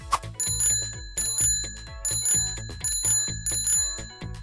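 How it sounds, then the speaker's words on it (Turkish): A bicycle bell rings in a quick, bright, repeated pattern, with about six even double-chimes in a row, close and clear with no talking. "Zilin sesini duydum."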